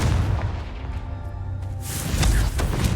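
A Confringo fire spell explodes in Hogwarts Legacy: a deep booming blast that rumbles and fades, followed by a second burst of crackling impacts, loud and close, with no talk over it.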